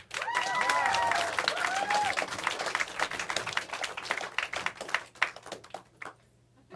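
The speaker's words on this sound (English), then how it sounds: "Nice little round of applause for them." A comedy club audience claps for the comedians, a warm round of applause that builds quickly, holds, and thins out into scattered individual claps.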